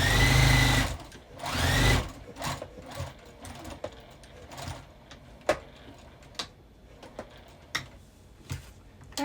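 A sewing machine stitches a tea bag wallet, running in two short loud bursts near the start, then quieter intermittent clicks and taps of handling the fabric.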